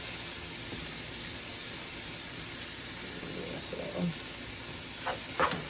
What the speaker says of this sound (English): we're gonna put that in there and let that simmer